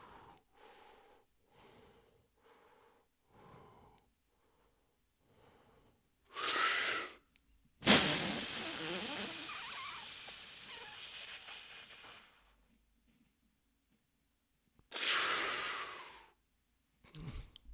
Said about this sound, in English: breathing normally and then taking a deep breath in, blowing, squeeze, and then deep breath in again